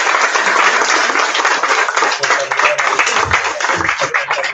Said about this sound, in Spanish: Bueno, aplaudimos